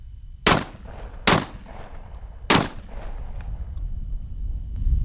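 Three loud, sharp shotgun blasts from a Mossberg 940 Pro firing steel waterfowl loads, spaced about a second apart outdoors, each with a short echoing tail and steady background noise between them.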